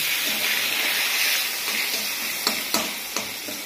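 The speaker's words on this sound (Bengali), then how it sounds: "পটলটা ভাজা হোক।" Pieces of pointed gourd frying in a pan give off a steady, close sizzle and hiss, broken by a few sharp ticks and stirring clatters near the end.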